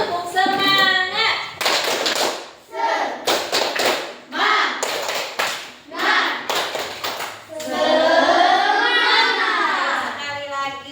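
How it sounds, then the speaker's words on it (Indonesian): Children in a classroom perform a rhythmic spirit clap, sharp grouped claps in a patterned beat alternating with a voice and children chanting along. "Ayo tepuk semangat."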